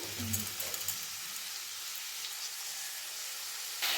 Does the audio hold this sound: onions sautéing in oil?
yes